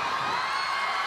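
Dense, steady applause from a crowd at a Hindi heroic-verse poetry recital, broad and sustained throughout with scattered whoops mixed into the clapping.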